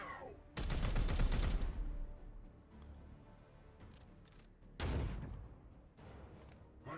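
A Vindicare Assassin's rifle firing in the video game Daemonhunters: two heavy, booming shots a few seconds apart, each with a long rumbling tail, separated by quieter game ambience.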